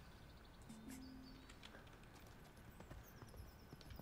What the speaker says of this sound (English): This is a nice trot, normal.